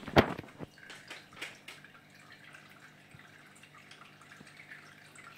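Water gurgling and dripping inside an Elit LQ-AC02 evaporative air cooler, a sharp splash at the start followed by soft intermittent trickles and drips, faint and close.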